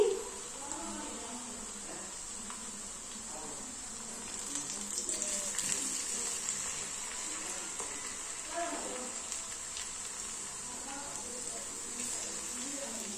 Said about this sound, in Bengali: এখন আমি চিড়ের পিঠেগুলো সব ভেজে নিচ্ছি।